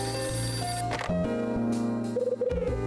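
Ringing telephone in the video game Hotel Dusk, an electronic ring mixed into looping game music, steady and moderately loud throughout the short stretch.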